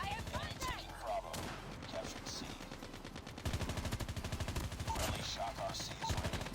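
Rapid automatic gunfire comes from the mobile shooter Call of Duty Mobile. Dense bursts of rattling shots run almost without pause, growing heavier and louder halfway through, and a voice speaks over the firing.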